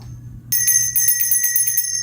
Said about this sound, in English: don't forget the notification bell